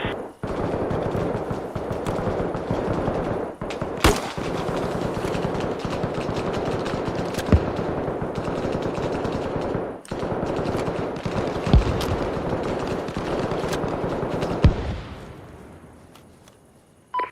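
Dense, continuous automatic gunfire with occasional sharper booms of mortar shelling in the military shooter Arma Reforger, a sustained loud barrage that fades out toward the end.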